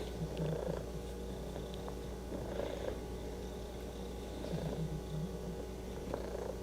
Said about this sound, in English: You're a nice cat.